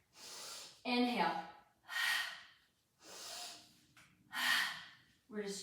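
A Pilates instructor breathes in and out in a steady cycle, five or six audible breaths alternating between sharp intakes and longer hissing exhales, close and clear with short silences between.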